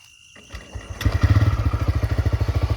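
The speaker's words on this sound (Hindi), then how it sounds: "अभी मैं बाइक को स्टार्ट करके दिखाता हूँ कि कैसा लाइट हो रहा है" A TVS Raider 125 motorcycle starts after a few quiet clicks and thumps, its single-cylinder engine catching at once and settling into a steady, rapid thumping idle, close and loud with no talk.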